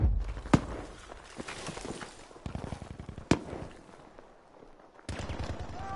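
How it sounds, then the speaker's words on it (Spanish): Sharp gunshots from the Battlefield V video game, two loud isolated cracks with others scattered around them amid a busy battlefield din, close and punchy. "¿El disparo de la iglesia?"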